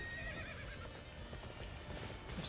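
A horse in the video game Dynasty Warriors 9 gallops with fast, rhythmic clip-clopping hooves while whinnying over them, close and continuous for a couple of seconds.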